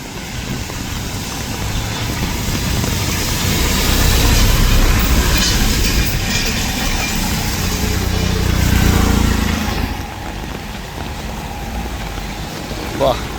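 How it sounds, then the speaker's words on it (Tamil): Flood water rushing along Stanley Road in Jaffna after record rainfall, a loud continuous broadband roar that swells and eases, dropping somewhat near the end. "வெள்ளம் ஓடிக்கொண்டிருக்கு பாருங்க"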